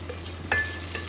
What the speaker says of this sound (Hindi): तो यहाँ पे ये प्याज ब्राउन हो रही है